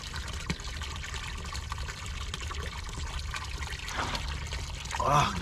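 Cold water pours and trickles at an outdoor water-fetching spot in Canada, a continuous splashing flow with a louder gush near the end and a voice faintly present.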